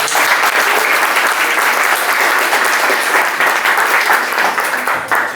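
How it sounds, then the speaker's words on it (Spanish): Audience applause closing a Spanish-language astronomy talk, a loud, sustained wash of many hands clapping that holds steady for several seconds before tapering slightly at the end, with no voices over it. "primero un aplauso"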